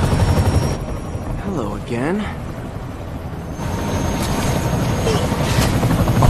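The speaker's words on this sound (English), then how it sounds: "we're actually stopping the whole chopper" Helicopter in the Spider-Man: Miles Morales video game, a steady loud rotor drone filling the scene, with brief whooshing swoops and a short voice in the middle.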